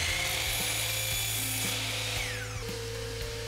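A power saw, such as a chop saw, cuts wooden stock for a plexiglass table divider, a close, loud whining buzz that fades out near the end.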